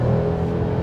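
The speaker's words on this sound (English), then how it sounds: "This engine sounds really great when you ring it out." A naturally aspirated V6 engine in a 2014 Mercedes-Benz E350 4Matic sedan revs steadily and loudly up close, a smooth sustained drone with a strong low tone and no speech.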